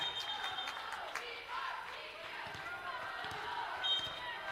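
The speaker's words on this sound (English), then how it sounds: "Their crowd is into it." A crowd in a gym at a college Division III conference championship volleyball match in Indiana keeps up a steady, distant roar of cheering, with a commentator talking over it.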